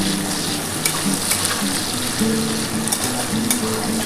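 Potatoes fry with spices in a pan, giving a steady bright sizzle with occasional crackles and stirring scrapes. The sound is close and continuous.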